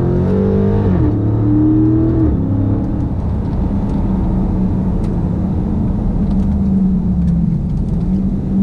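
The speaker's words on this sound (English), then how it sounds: "Another really nice corner into second gear. Power out of it." A 2016 Dodge Charger R/T Scat Pack powers out of a tight corner in second gear, its engine loud and close, revving up and dropping between quick shifts before settling into a steady, rumbling pull.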